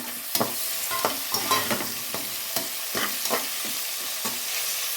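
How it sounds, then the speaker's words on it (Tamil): Chopped tomatoes sautéing in a pan for a traditional Indian village green gram rice, with steady broadband frying hiss and repeated stirring scrapes and clinks at close range, no talk. "அப்புறம் நம்ம ஒரு 5 தக்காளி கட் பண்ணி வச்சுருக்கோம் பொடியாக, அதையும் போட்டுக்கோங்க"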